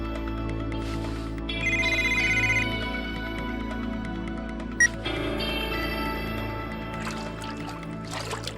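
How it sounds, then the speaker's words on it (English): A phone ringtone plays in an anime scene: a steady melodic electronic ring repeating over a low sustained background drone, moderately loud, with no voices. "How can my phone be ringing here?"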